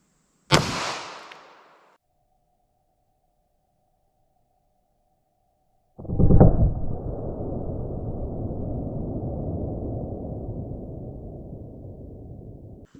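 A full-size 9mm pistol fired once into a ballistic gel block: one sharp, loud crack that decays within about a second, then silence, and later a second loud burst that settles into a long rumbling tail.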